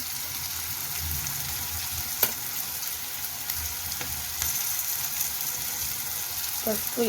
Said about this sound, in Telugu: నేను కడాయి పెట్టేసి ఆయిల్ పోసి చిక్కుడుకాయ ఆలుగడ్డ వేసేసిన